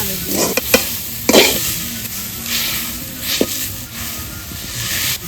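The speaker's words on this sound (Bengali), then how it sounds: "এই কড়াইতে নারকেলগুলো দিয়ে দেবো পুরটা তৈরি করার জন্য" Grated coconut and date palm jaggery filling is stirred in a wok, with a soft continuous sizzle and a few sharp scrapes and knocks of the spoon, close up with no voices.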